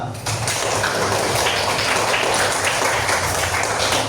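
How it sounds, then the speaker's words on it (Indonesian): Schoolchildren in a classroom clap their hands together in a busy, continuous burst, fairly loud and close, with some voices mixed in underneath. "Kita tepuk tangan untuk kalian semua."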